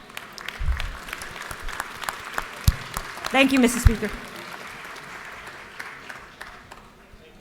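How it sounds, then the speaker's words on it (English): Members of a state legislative chamber give a round of applause to a Day of Action participant. The clapping is fairly quiet and diffuse, with a brief louder swell midway, and someone speaks over it. "if you could please stand so that we could give you a round of applause"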